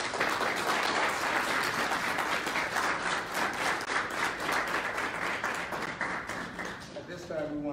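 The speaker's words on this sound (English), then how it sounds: "Round of applause" The audience at an Army JROTC military awards ceremony applauds warmly, giving a dense and sustained round of clapping that fades near the end as a voice starts to come in.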